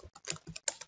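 Fingers type quickly on a computer keyboard, a run of crisp, close clicks in an uneven rhythm with short gaps, quiet and alone.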